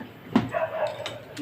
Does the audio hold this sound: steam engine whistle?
no